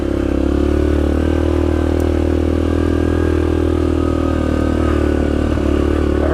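A Yamaha Grizzly 700 ATV engine runs steadily and loud while riding a trail in the Hatfield & McCoy area, a continuous low drone with slight rattle throughout and no voices.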